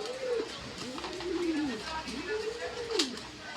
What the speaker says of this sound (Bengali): এটা কিন্তু অরিজিনাল বোম্বাই কবুতর